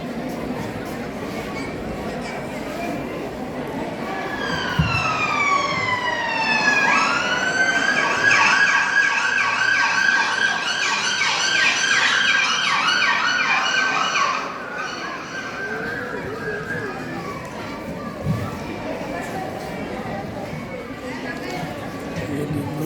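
An ambulance siren in a Gujarati stage drama rises and wails repeatedly for several seconds at high pitch, loud and continuous, over a background of voices and crowd noise before it fades.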